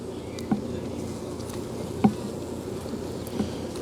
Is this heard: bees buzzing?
yes